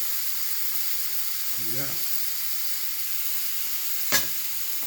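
Chicken bulgogi skewers sizzle on a lightly oiled griddle, a steady broadband hiss running throughout at moderate level, with a brief voiced word partway through and a sharp tap near the end.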